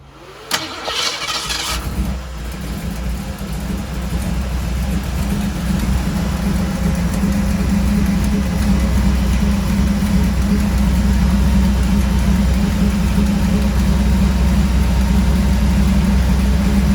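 A car engine with freshly replaced cylinder heads cranks briefly, catches and settles into a loud, steady idle that runs unbroken for over ten seconds, close to the listener with no talking.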